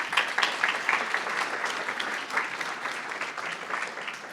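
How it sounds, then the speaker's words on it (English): Applause from a keynote audience at a health care policy conference, a continuous full round of clapping, moderately loud and evenly sustained, fading slightly toward the end. "Let's give him a round of applause."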